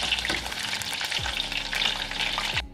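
Chicken bites sizzle and crackle steadily in a frying pan, a loud, continuous hiss with occasional low knocks, heard alone without any talk.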